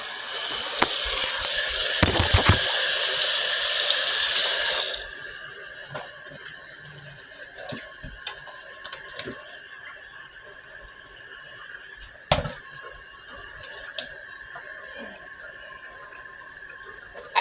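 Water gushes loudly from a home sink faucet for a few seconds, then cuts off, leaving quiet room sounds with scattered clicks and knocks.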